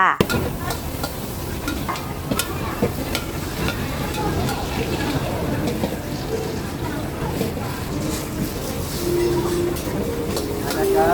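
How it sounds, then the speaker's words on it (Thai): Shrimp macaroni is stir-fried in a busy restaurant kitchen pan, with a steady sizzle, repeated metallic scraping and clanks, and background chatter and noise throughout, fairly close. "มาเตรียมดูทางร้านผัดมักกะโรนีกุ้งกันเลยจ้า"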